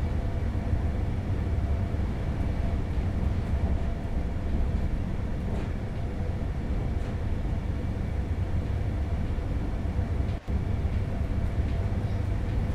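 Train running in Train Sim World 4, an IRE on the Köln–Aachen line heard from the cab car: a steady, low rumbling drone of rolling wheels and traction, constant and unbroken with one brief dropout.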